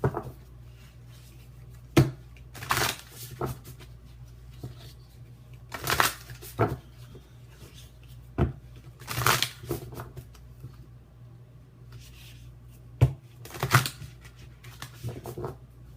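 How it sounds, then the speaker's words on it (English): Whispers of Love oracle cards are shuffled and handled in quiet bursts of papery riffling and soft slaps, spaced irregularly over a low background hum. "let me just pull some Whispers of Love cards"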